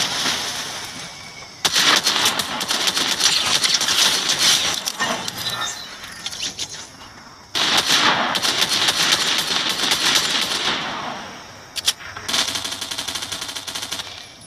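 Rapid automatic gunfire in Fortnite rattles out in long, loud, dense bursts with brief pauses between them and a few single shots, heard through a headset.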